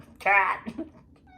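A short, bright, nasal trumpet tone played with a Harmon mute, resembling a cat's meow, loud and close, followed by a brief softer vocal sound.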